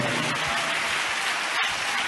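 A church congregation at Hosanna Mandir in Machilipatnam claps in praise during a worship service, a dense, continuous wash of applause at a steady level.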